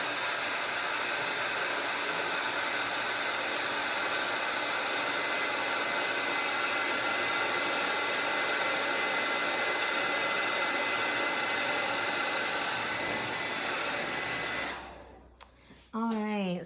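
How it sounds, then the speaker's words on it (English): A hair dryer blows steadily over a freshly painted apple and pineapple picture, a constant close whooshing hum that cuts off near the end. "I'm going to blow dry the top"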